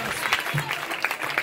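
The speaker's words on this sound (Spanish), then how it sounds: "¿Cuánto aplauden a Dios por él?" A church congregation applauds during an evangelical sermon, producing a dense, continuous wash of clapping from a crowd with mixed voices underneath.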